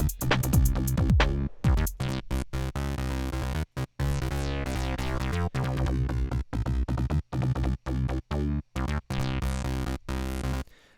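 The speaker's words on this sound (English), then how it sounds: "So together with the wavetable engine, it sounds like this." Pigments synthesizer playing a rhythmic wavetable-engine pattern with modulation, dense evolving tones with choppy gated gaps and sweeping timbre over about eleven seconds, loud and alone.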